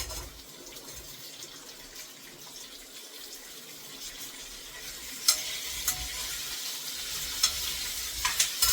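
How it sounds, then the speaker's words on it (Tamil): Onion, tomato, garlic and dried chili fry in a pan with a soft, steady sizzle. Occasional stirring scrapes and clatters grow a little sharper toward the end, and nobody speaks. "நான் இப்ப வந்து இந்த வெங்காயம், தக்காளி, பூண்டு, வத்த மிளகாய் எல்லாத்தையும் சேர்த்து ஆட் பண்ணிடுறேன்."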